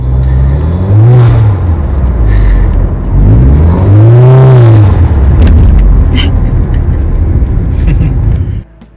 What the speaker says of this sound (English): you got some nice sounds from the stock turbo.